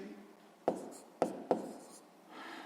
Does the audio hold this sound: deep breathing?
no